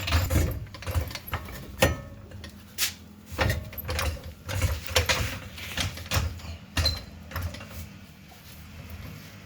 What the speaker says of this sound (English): Jack it up and line the holes here to here, because it's really heavy.